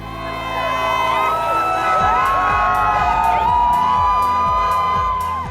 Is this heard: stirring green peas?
no